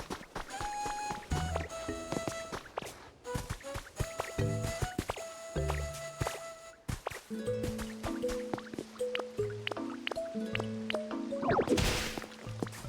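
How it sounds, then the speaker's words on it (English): Watering plants in the Pokemon Pokopia video game makes a series of bright, dripping, splashy water sounds set against soft tonal game music, with no talking. "Let's just water this sucker naturally."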